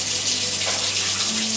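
Warm water runs steadily from a kitchen tap into a vessel for bread dough, a continuous, close, even rushing hiss with no talking.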